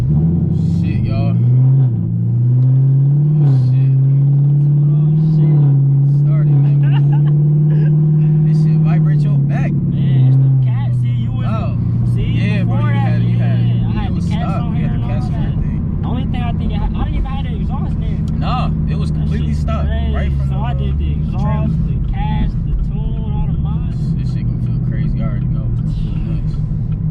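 Chevrolet Camaro ZL1 with a 10-speed transmission being driven, its steady low engine rumble droning throughout beneath near, continuous voices talking inside the car.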